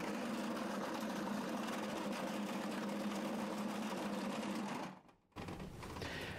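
A brass sorting machine runs loudly and steadily, a dense mechanical whir with a constant chattering rattle, briefly cutting out near the end before resuming.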